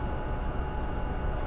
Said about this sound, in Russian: приехал товарный поезд